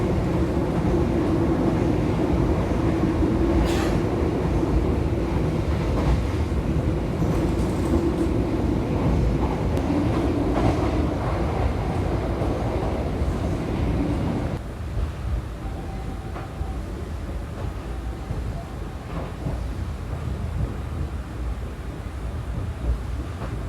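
Inside the Argo Cheribon executive-class train rolling along at night, a steady, loud low rumble of wheels and carriage noise runs throughout and eases slightly partway through.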